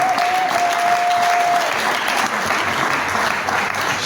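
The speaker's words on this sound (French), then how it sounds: "Je vous demande de les applaudir très fort." An indoor audience at a formal installation ceremony for a directing committee applauds loudly and steadily, a dense, sustained clapping with a brief high tone near the start.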